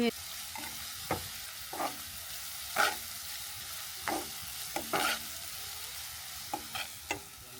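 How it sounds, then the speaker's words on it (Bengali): Chopped onions frying in a pan for a pigeon bhuna, stirred until light brown, giving a quiet steady sizzle broken by sparse, irregular scraping strokes of the spoon. "পেঁয়াজগুলো আমি হালকা বাদামি করে"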